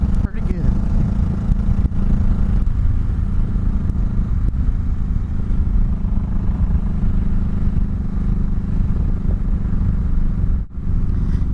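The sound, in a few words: 2004 Honda Sabre 1100 motorcycle accelerating through the gears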